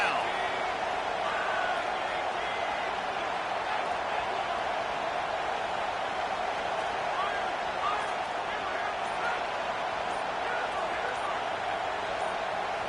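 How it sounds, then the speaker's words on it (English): A home crowd roars at a college football game between Texas Tech and TCU as the defense tries to get off the field on third down, a sustained, dense wall of crowd noise mixed with commentary. "Here comes this home crowd as the defense tries to get off the field on third down."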